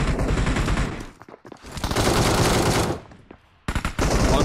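Automatic weapon fire in PUBG Mobile, loud rapid bursts of shots broken by short pauses, close and dominant with no talking over it.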